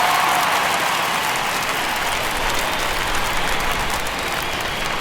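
Constant roar of a baseball stadium crowd in a video game, a Phillies at Mets matchup in the ninth inning at the Polo Grounds, loud and unbroken like heavy applause throughout.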